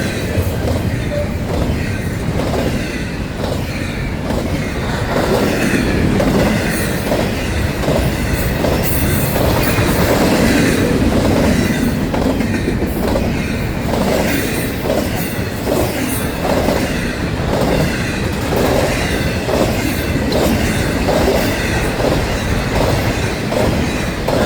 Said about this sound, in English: Mixed train